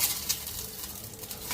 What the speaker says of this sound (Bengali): এখন এই ডিম ভাজা